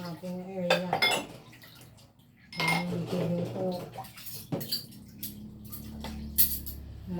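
Cookware gets washed in a home kitchen before cooking: pots and utensils clink and clatter in bursts with splashing water, close by, while a person talks over parts of it.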